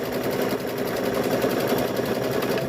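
A sewing machine stitches steadily across a quilt block, a fast even mechanical whirring that runs without pause throughout, loud and close with no voices.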